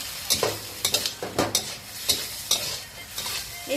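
Sliced chili and shallots are stir-fried in a pan for a pork stomach dish, with about eight sharp, close spatula scrapes and tosses over a hissing sizzle, no talking.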